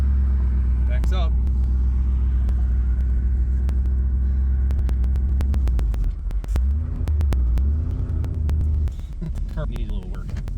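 A 1977 Pontiac Bonneville idles with a deep, steady rumble close by, then the engine note shifts and wavers as the car backs up in reverse, with scattered clicks and a voice breaking in near the end.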